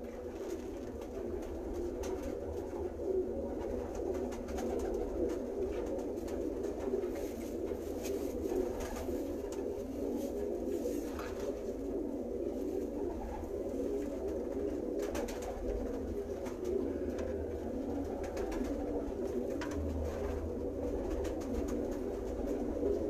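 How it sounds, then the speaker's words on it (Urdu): Mixed Banke and Ferozpuri breeder pigeons coo continuously in a low, throaty murmur, several birds overlapping steadily throughout with a constant background hum and no speech. "اور یہ جو کبوتر آپ میری سکرین پہ دیکھ رہے ہیں"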